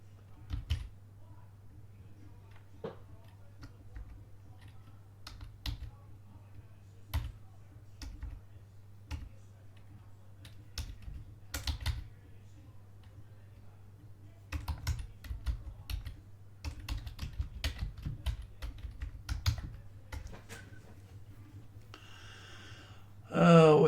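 Typing on a computer keyboard: scattered, close key clicks come in short runs, faster and denser toward the end, with little talk around them.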